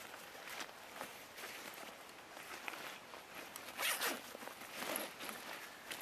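A backpack zipper is pulled open in several short, scratchy strokes, close and fairly quiet, with one louder rasp in the middle.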